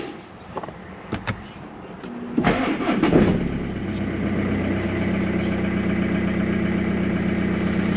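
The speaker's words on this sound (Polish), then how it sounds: "tak więc uruchamiam silnik e, i zobaczymy co się dzieje" A BMW with a B47 diesel engine, under repair for a fuel line and control unit fault, cranks briefly and fires up, then settles into a steady rumbling idle, heard close and alone after a few clicks.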